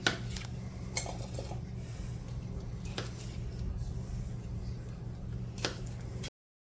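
Washed potatoes cut into quarters with a knife, a few sparse sharp chops against a board, spaced seconds apart over a constant low hum.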